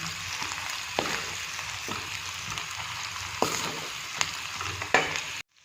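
Ginger and garlic frying in a pan, a steady sizzle with occasional scrapes and taps of a utensil stirring; no voices.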